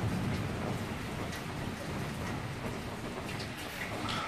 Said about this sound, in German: Unwetter ist da.